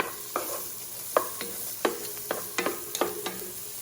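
Chopped onion and garlic sautéing in a hot pan for Louisiana crab dip, with a spoon scraping and stirring in a string of sharp, close strokes over a steady low sizzle.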